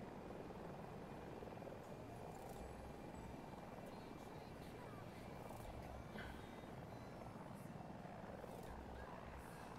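Helicopter in the shooter game Battlefield 2042, a faint, steady rotor drone running continuously under distant game sounds, with brief speech in the mix.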